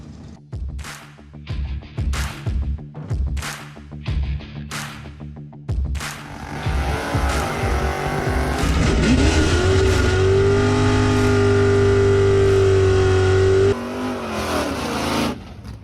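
Drag cars at a Lucas Oil Drag Racing Series event at Cecil County drag strip, starting with rhythmic rumbling engine blips, then a loud sustained roar as a car revs hard and launches, fading slightly near the end.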